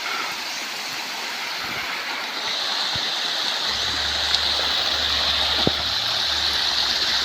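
A river stream flowing near waterfalls, a steady broad rushing wash that carries through the whole stretch, with a faint low rumble joining later and no talking.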